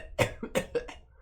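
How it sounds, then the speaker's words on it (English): A person coughs during a baseball card box break: three or four sharp, close coughs in quick succession, loud and alone, trailing off within about a second. "sorry I got a cough"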